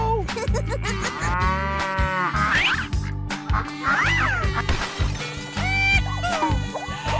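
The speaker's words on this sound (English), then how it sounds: "Cow." A cow moos in several long, drawn-out calls with rising and falling pitch, loud and close, with no talking over it.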